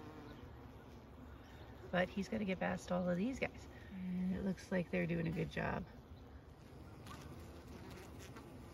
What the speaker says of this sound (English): Here's an example here of a wasp trying to get into the hive,